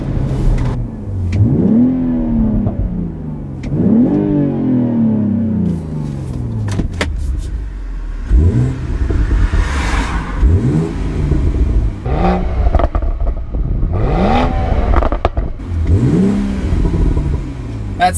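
A 2018 BMW X3 M40i with an eight-speed gearbox accelerating hard in sport mode, engine revving up in repeated rising sweeps broken by quick upshifts, five or six pulls over eighteen seconds, loud and close with no talk.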